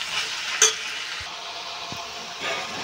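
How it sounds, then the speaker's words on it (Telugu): Ridge gourd pieces frying in a pan, a soft steady sizzle with a few light stirring clinks and scrapes, close by and moderately quiet with no talking. "ఇప్పుడు మనం ఇంకా బీరకాయ ముక్కలు అనేది వేసేసుకుందాం. ఇవి కూడా వేసేసుకుని బాగా ఫ్రై చేసేసుకున్నామండి."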